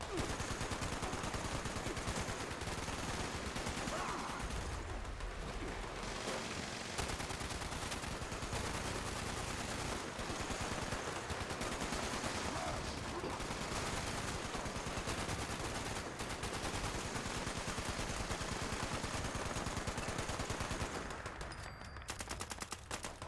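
Gatling laser firing in the video game Fallout 76: a dense, sustained stream of rapid energy-weapon fire running loud and steady almost without a break, with game sounds underneath.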